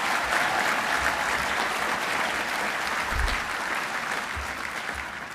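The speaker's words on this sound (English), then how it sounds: "Give all these graduates a big round of applause." Sustained applause from a large audience at a 2022 medical school convocation ceremony honoring graduates, a dense, even wash of clapping throughout with no speech over it.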